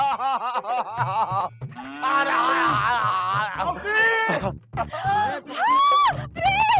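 A man imitates a buffalo mooing in a comedy show scene, giving drawn-out, wavering lowing calls mixed with loud, excited shouting from several voices.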